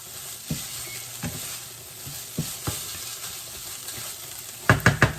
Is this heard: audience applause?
no